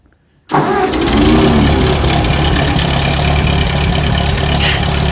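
A 1948 Ford 8N tractor engine cranks and catches on a cold start with the choke out, then settles into a loud, steady, rough idle close by, with exhaust leaking.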